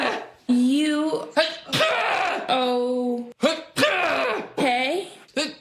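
A repeated sequence of exaggerated, vocalized sneezes, a Dracula-style comedic sneeze fit performed as a Halloween promo gag, with loud bursts and strained voiced build-ups in quick succession by a voice imitating sneezing.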